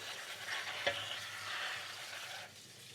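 Water rinsing leafy greens in a colander at a kitchen sink makes a steady, soft hiss with a brief clunk partway through, then tapers off.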